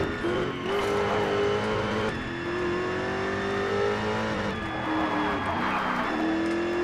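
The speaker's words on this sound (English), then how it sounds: "Very good drift there." Race car in the GRID racing game slides through corners, a revving engine with rising and falling pitch mixed with sustained tire squeal and skidding, loud and close throughout.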